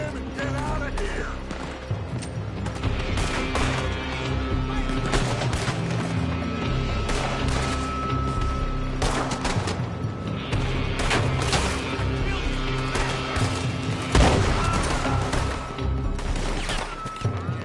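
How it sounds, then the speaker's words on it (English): Gunfire during a shootout in Red Dead Redemption II, repeated sharp cracks and booms scattered over about eighteen seconds amid clattering game action and dialogue voices. "They're shooting from that building."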